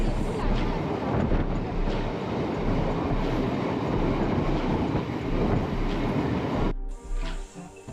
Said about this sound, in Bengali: আমাদের ট্রেনটি ক্রমশ সামনের দিকে এগিয়ে চলেছে